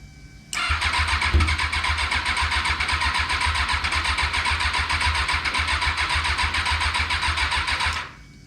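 A rebuilt Kawasaki 636 motorcycle engine fires up at about half a second and runs steadily at a loud, close idle with a brief rev early on, then cuts off just before the end.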